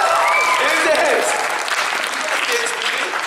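Audience clapping at a Vidcon Australia creator keynote, a continuous crowd clap filling the hall, loud and steady with voices faintly mixed in.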